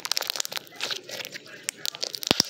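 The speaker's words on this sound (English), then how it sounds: "Ooh, let's hear that crunch." Homemade slime being stretched gives off a run of small crackling crunches and snaps, fairly close, with a couple of sharper pops near the end and faint background noise.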